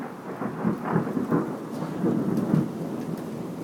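Steady heavy rain with low rumbling thunder during a thunderstorm under a tornado warning, a continuous wash of noise with rolling swells and no voices.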